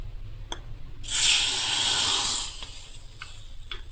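Tempering added to a hot pan for Goan-style colocasia bhaji, a sudden loud hissing sizzle lasting about a second and a half, then fading to faint crackles.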